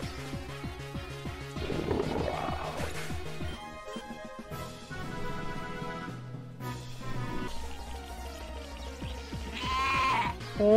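Radioactive black sheep Pokémon in Pokémon Uranium crying out: a string of wavering, bleating calls over game music, with a gliding tone and a rising swell toward the end.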